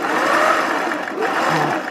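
Sewing machine stitching the side gussets of a zero-waste dress, a short continuous mechanical whir with a faint rhythmic chatter, close and fairly loud.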